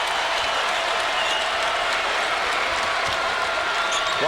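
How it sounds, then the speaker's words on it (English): Basketball crowd at an LSU versus Tennessee college game applauding and cheering after a dunk, a dense, steady roar of clapping that holds loud throughout. "There's a crowd here starting to get into the game."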